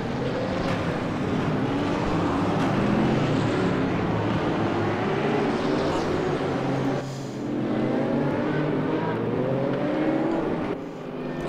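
Porsche and BMW Alpina GT3 race cars scream through Blanchimont at Spa-Francorchamps in RaceRoom, their engines layered into a loud, sustained roar that climbs in pitch, briefly dips around a gear change, then builds again.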